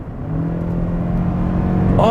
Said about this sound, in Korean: 애킨슨 사이클 방식의 엔진을 아직도 고수하고 있기 때문에 이 부분에 대한 아쉬움은 당연히 이 소리로 나오는 것 같고요